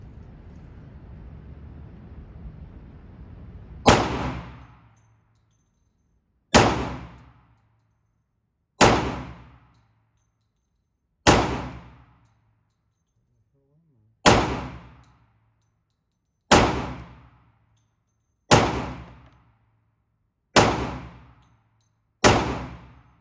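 A 10mm Zulisy Owl pistol with a laser fires nine loud, sharp shots, each spaced about two to three seconds apart with a short ringing decay. Faint background noise comes before the first shot.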